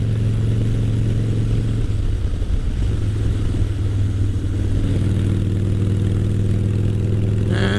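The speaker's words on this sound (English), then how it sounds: "I'm gonna go ahead and rev it up a little higher in this next intersection." A motorcycle engine drones steadily close to the rider while riding, with a low, even hum and wind noise, and the revs rise near the end.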